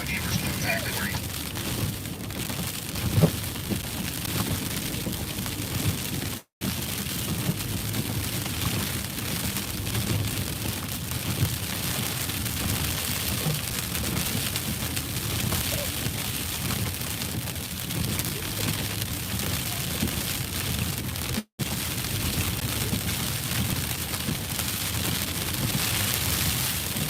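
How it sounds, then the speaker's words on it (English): Freezing rain strikes a car windshield during a snow and ice storm in Upstate South Carolina, a steady dense patter that runs throughout the clip with two brief dropouts, under intermittent talk. "Hear that rainfall hitting the windshield."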